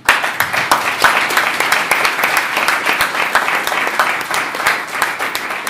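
An audience at a startup event claps loudly for a person on stage, a full, steady burst of applause with sharp individual claps standing out, and no talk over it.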